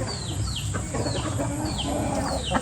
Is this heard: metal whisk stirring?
no